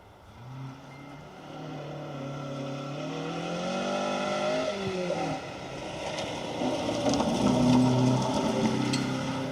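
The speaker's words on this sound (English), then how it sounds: "I can hear first car about to come into view" A Mitsubishi Lancer rally car approaches on a forest stage of the Roger Albert Clark Rally, its engine rising from distant to fairly close, revving through gear changes and growing louder by the end.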